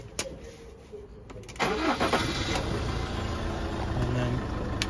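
An Iveco tipper truck's diesel engine cranks with a few short bursts, then catches about halfway through and settles into a loud, steady idle close by.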